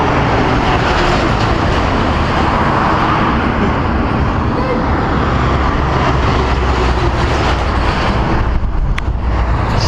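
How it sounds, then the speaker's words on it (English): Heavy lorries on a busy main road in Xinjiang, China, rumble past close by as a loud, continuous roar of engines and tyres. The dense traffic noise never lets up. "So many lorries on this big main road we're on now"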